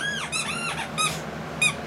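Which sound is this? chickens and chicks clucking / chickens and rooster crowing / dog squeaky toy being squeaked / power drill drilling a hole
dog squeaky toy being squeaked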